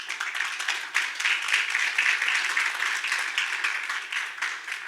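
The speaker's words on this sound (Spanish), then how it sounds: "Un fuerte aplauso." Audience at a Spanish-language political talk in Peru applauds steadily, a dense wash of many hands clapping throughout with no voices standing out.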